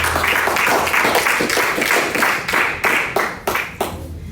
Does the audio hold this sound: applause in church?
yes